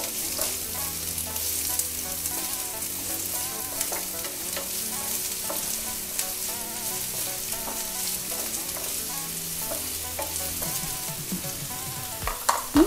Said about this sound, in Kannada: ಲೈಟಾಗಿ ಹುರ್ಕೊಂಡ್ರೆ ಸಾಕು, ಕಂದು ಬಣ್ಣ ಬರೋರಿಗೆಲ್ಲ ಬೇಕಿಲ್ಲ, ಅದು ಘಮ ಬರುತ್ತೆ. ಸೊ ಫ್ರೈ ಮಾಡ್ಕೊಳ್ಳೋಣ.